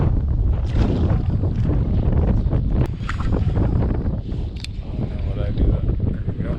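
Heavy wind roars across the microphone while bass fishing from a kayak, loud and steady with rushing gusts and faint water sounds, with someone talking over it.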